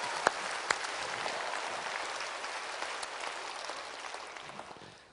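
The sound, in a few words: church congregation applause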